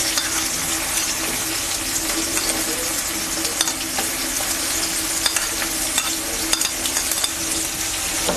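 Onions fry in hot oil in a pan for duck egg curry, giving a steady close sizzle with occasional stirring scrapes and clicks, and no talk.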